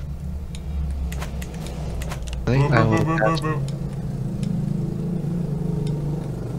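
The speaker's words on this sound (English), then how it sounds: "I'm hearing a fucking motorcycle" Motorcycle in the background, a brief rising and falling engine whine passing by under steady rumble while a person talks close by.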